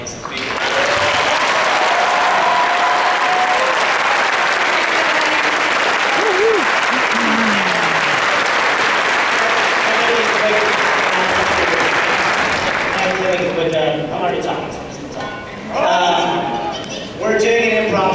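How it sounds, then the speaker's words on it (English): A convention audience at Denver Comic Con gives the Guild panelists a long round of loud, dense applause, which carries on for about thirteen seconds before thinning out as voices and talk take over. "Let's give our panelists a big round of applause."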